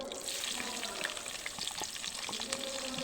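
Chopped onion with a bay leaf fries in oil for pulao, a close continuous crackling sizzle with small pops and stirring, no speech.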